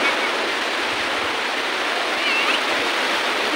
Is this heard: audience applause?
no